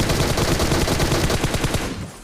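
Rapid automatic gunfire rattles loud and dense in a PUBG Mobile match, a continuous burst of shots for about two seconds before trailing off.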